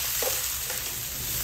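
Frozen carrots and green peas fry in a pan for Filipino-style fried rice, a steady close hiss of sizzling oil with a couple of soft stirring scrapes.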